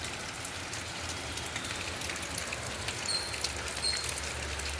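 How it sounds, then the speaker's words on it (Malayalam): Heavy rain falls steadily in Palakkad, a constant close patter of drops hitting surfaces with no break, and no voices over it. "പക്ഷേ മഴ നന്നായിട്ട് പെയ്യുന്നുണ്ട് കേട്ടോ"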